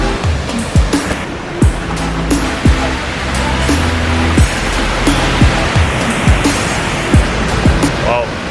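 The Manitou waterfall on the Côte-Nord roars as a broad, loud, continuous rush of falling water, with repeated low thumps and knocks over it.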